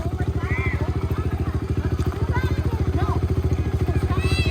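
A kids' dirt bike engine idles close by with a fast, even, throbbing putter, while voices chatter over it.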